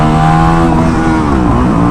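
A 2020 Honda CRF450L motorcycle revving hard in first gear for a power wheelie, a loud, close, continuous engine roar with its pitch wavering briefly, no talking.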